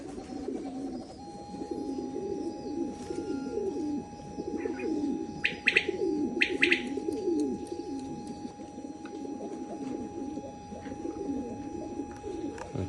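Pigeons kept in a loft beside a grapevine coo softly and chirp in short bursts at moderate distance, with a steady low background murmur throughout.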